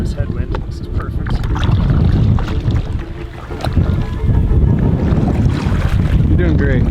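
A headwind buffets the microphone from a boat on the water in Alaska, a loud, continuous roar that dips briefly and then returns, with a voice speaking under the gusts.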